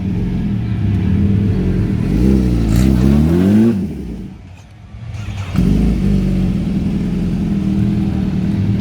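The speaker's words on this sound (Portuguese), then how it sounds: "A S1000RR aí." BMW S1000RR sportbike at an outdoor motorcycle meet revs up and down, a loud close engine note rising and falling over a few seconds, dipping briefly before settling into a steady run again.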